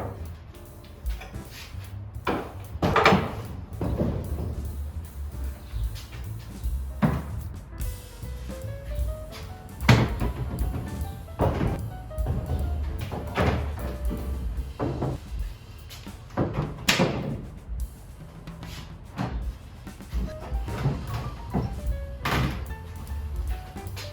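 Wooden doors being unloaded off a truck: repeated thuds, knocks and clunks at irregular intervals, close by, with scraping between impacts and no talk.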